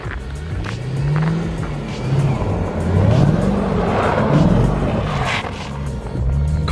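A Mercedes-Benz E55 AMG drives through about eight inches of deep snow, its engine rising and falling in pitch as it revs and pulls, loud and close.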